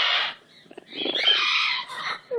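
A pet bird lets out harsh squawks and chattering calls, a loud burst at the start, then scratchy rising chatter close by, with a quieter gap between.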